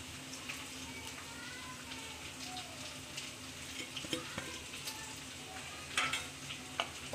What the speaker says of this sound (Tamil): போட்டு லைட்டாக கிட்டி கொடுத்துருவேன்.